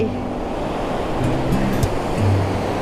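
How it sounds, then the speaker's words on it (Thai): Morning sea waves roll onto Chao Lao beach in a continuous close wash of surf, mixed with wind rumble and a faint low hum. "อันนี้แวะให้มาดู ทะเลช่วงเช้ากันก่อนนะคะ"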